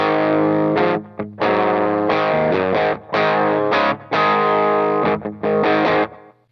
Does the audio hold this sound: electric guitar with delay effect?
yes